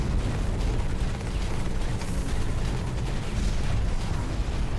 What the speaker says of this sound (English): Ooh, missiles.